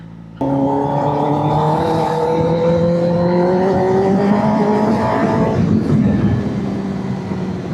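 A Kawasaki ZX-10R sport motorcycle engine revs hard and loud, its pitch climbing steadily as it accelerates, then wind and road noise take over.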